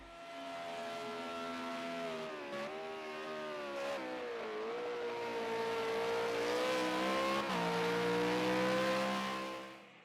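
Ford V8 race car at Bathurst held at full throttle, a loud continuous engine roar with steady harmonics that rise and dip slightly with revs, close and sustained for the whole stretch, with no talk over it.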